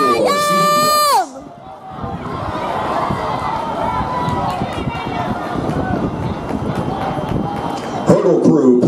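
Spectators at a boys' 1600 m track and field final cheer the runners. An announcer's voice opens briefly, then a sustained wash of distant crowd noise and shouting fills the rest.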